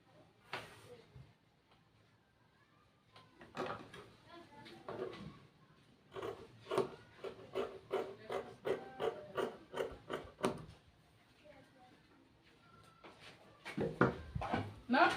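Fabric being cut for a ruched drawstring bubu top, giving a run of short, crisp snipping and rasping strokes in a steady rhythm, close up, with quieter handling sounds before and after.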